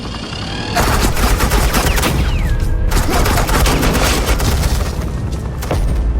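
Bursts of rapid automatic gunfire fill a Batman video game scene as suppressing fire, loud and continuous with dense rattling volleys, a brief break and a falling whistle-like tone, and no speech over it.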